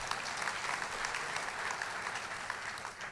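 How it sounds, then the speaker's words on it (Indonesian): An audience claps steadily and densely at a PSMTI 25th anniversary gathering in Indonesia, a full, even wash of applause with no pauses. "tepuk tangan untuk kita semuanya."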